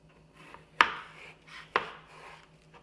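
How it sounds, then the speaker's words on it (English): A kitchen knife slices through food on a cutting board into quarters, two sharp, close chops about a second apart, each with a short ringing tail, over quiet background. "We're going to go ahead and slice that one more time into quarters"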